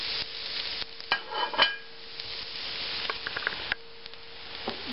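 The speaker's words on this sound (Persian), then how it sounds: "حالا میایم اون گوشتای مرغ خرد شده رو که با پیاز سرخ کرده بودیم، تفت داده بودیم رو میریزیم داخل هویج‌ها" Chopped chicken fried with onion is tipped into a pan of sautéing carrots, with close sizzling, a few scraping stir strokes and light clinks over a steady frying hiss.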